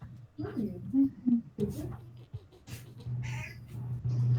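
A cat meows a few times amid steady people talking, its short tonal cries rising briefly above the voices.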